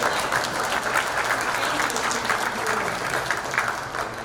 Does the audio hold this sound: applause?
yes